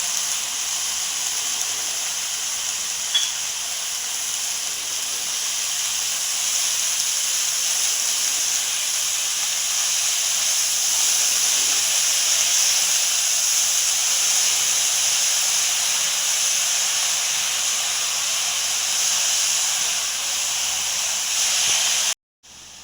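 Dill greens with raw moong dal cook over a full flame, giving a steady, loud, continuous sizzling hiss close by that runs unbroken for over twenty seconds before cutting off abruptly.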